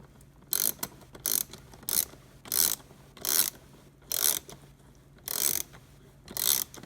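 A ratchet fitted with a 7mm socket loosens a hose clamp on a Chevy Cruze intake, giving eight crisp, evenly spaced clicking bursts, close and fairly quiet, with no talk.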